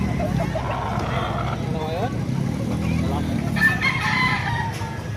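Lemon sweater and pumpkin sweater gamecock roosters crow nearby, several drawn-out calls overlapping one another, while someone talks over them throughout.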